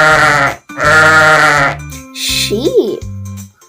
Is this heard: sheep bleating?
yes